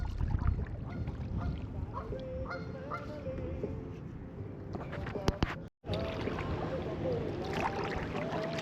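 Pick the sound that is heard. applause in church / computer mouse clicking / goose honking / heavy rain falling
goose honking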